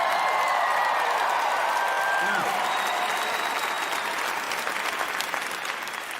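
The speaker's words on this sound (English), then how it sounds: "You guys are clapping" A stand-up comedy crowd breaks into warm, continuous applause with some cheering, a dense wash of clapping that holds steady throughout, with a brief voice or whistle tone rising above it.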